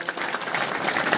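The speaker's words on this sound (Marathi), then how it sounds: "तरी सर्वांनी टाळ्या वाजवून त्यांचं स्वागत करावं." Audience clapping at a felicitation ceremony honouring army and police jawans in a village gathering, a brief burst of dense, steady applause from a crowd.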